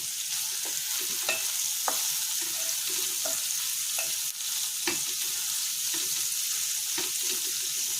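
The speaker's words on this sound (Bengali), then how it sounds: "ঠিক আছে, ভাজা হোক ততক্ষণ" Sliced onions fry in a pan with salt added, a steady broadband sizzle running throughout, with occasional scraping stirs and light clinks from a utensil nearby.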